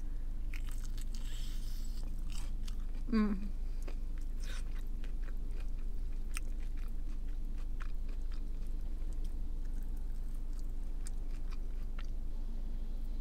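Crispy lemon pepper chicken wings being bitten and chewed, with one sharp crunch near the start followed by quieter chewing against steady background hum; a brief murmur of satisfaction is heard.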